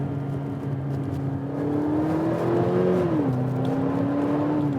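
Engine of an Infiniti Q30 accelerating under steady load, the note rising and then dropping as it shifts into second gear via the paddles, a continuous close interior drone with no talking.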